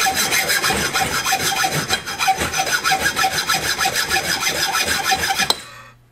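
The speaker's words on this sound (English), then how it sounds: "saw the heck out of it." A hand saw cuts through VEX robot metal hardware in fast, steady back-and-forth strokes. The scraping is loud and close, then stops abruptly near the end.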